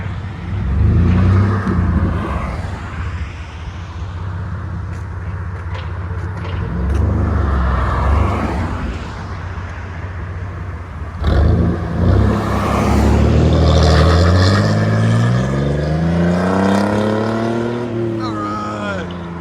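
A 1999 GMC Sonoma pickup with a 4.3L V6 and straight-pipe exhaust rumbles and revs up close, its deep, steady drone rising in pitch toward the end while people talk over it.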